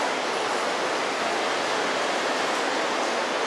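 Wind blowing outdoors near Lauya Plaza in Kuala Lumpur, a steady, full broadband rush with no breaks, close and fairly loud, with no voices.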